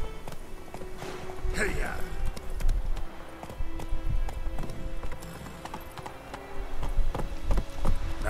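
Hooves of Roach, the horse in the Witcher 3 video game, clip-clopping at a steady walking rhythm, close and clear, with someone briefly speaking over the hoofbeats.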